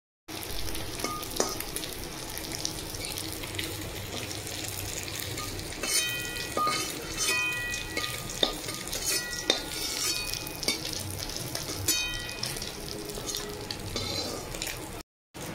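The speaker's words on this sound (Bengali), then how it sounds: "বাকি ডিম যে আছে সেগুলো এইভাবে ভেজে নেব।" Pieces of egg fry in a pan with a steady, close sizzle, punctuated by scraping stirs and light clinks of a utensil against the pan; no one speaks.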